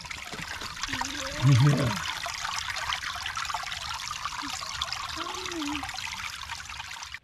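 Water trickles steadily down a small creek through a rocky drainage, a continuous close babble with one brief short voice and a couple of faint low vocal sounds over it.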